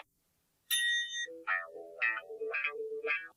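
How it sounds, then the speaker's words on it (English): A bright electronic chime rings at the Ontario Science Centre's Timesense time-estimation exhibit, followed by a short sequence of clear, echoing tones, alone and fairly loud. "At the sound of the chime, start estimating 1 minute."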